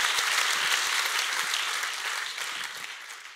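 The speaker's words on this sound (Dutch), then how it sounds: "Nogmaals, graag een hartelijk applaus." Audience applause at a lecture event opening an evening of talks, film and music; a sustained, dense round of clapping from a crowd that stays full and steady, then eases slightly toward the end.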